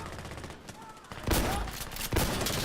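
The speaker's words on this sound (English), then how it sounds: "I took a shotgun bullet to the chest." Shotgun fire in the shooter game Insurgency: Sandstorm, a few loud booming blasts with a burst of rapid shots after quieter background gunfire, no speech over it.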